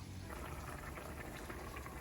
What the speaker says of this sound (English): Okay, so mine has started boiling.